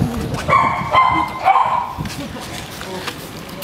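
A Belgian Malinois barks in a quick run of three or four sharp, close barks during a training session, followed by quieter background sound.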